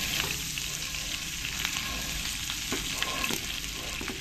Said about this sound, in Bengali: বাটারটা দিয়ে ভালো করে তেলের সঙ্গে মিশিয়ে নিতে হবে